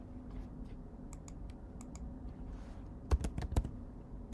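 Computer keyboard keys are typed in short scattered clicks, sparse at first, then a quicker cluster of louder taps near the end, over a faint steady room hum.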